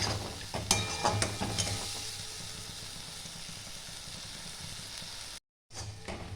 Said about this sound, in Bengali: একটু কষিয়ে নেব হালকা করে।